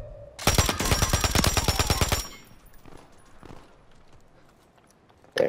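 A close, loud machine-gun burst from Call of Duty Warzone fires in a rapid even stream for nearly two seconds, then stops, leaving quieter game ambience before another sharp shot at the end.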